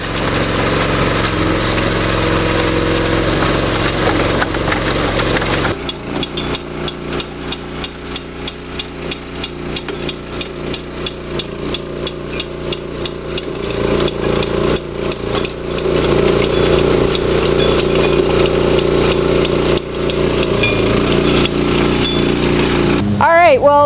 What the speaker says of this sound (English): Nick has got the trencher going.